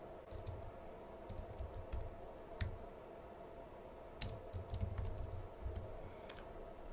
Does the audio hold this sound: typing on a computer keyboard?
yes